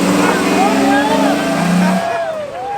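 A car doing a burnout on private property, engine revving hard and loud with sweeping pitch rises and falls, while excited voices shout and cheer over it.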